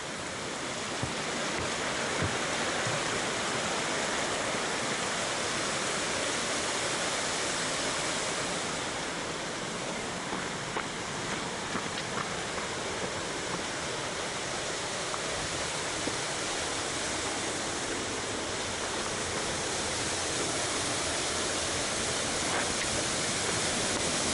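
A steady, full roar of Cataract Falls on the Colorado Trail, loud and continuous throughout, with a faint crackle of spray and no voices.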